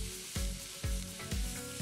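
Red peppers sizzle in a frying pan for a vegetable risotto, stirred in three distinct sweeps that each raise a sharp scraping hiss over a steady frying crackle.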